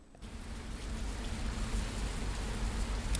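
Steady rain falls over Paris in the Fernbus Simulator bus-driving game, a continuous broadband hiss with a low rumble beneath it, fairly loud and unbroken for the whole stretch with no voices.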